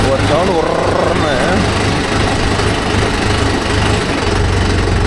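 A Mahindra Yuvo Tech Plus 585 DI 4WD tractor runs close by with a loud, steady engine chug and a rattling vibration throughout, while someone talks over it.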